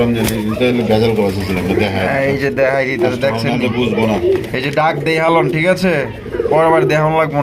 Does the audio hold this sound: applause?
no